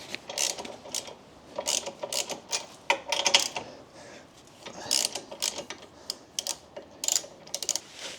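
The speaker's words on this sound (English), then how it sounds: "So right now we're going to take the fair lead off." An ATV winch fairlead is taken off, with irregular bursts of metallic clicking, ratcheting and tool clatter separated by short pauses, close and fairly quiet with no talk.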